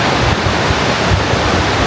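Grojogan Sewu, a waterfall about 81 metres high at Tawangmangu on the foot of Mount Lawu, gives a steady, loud, broadband roar of falling water with no voices.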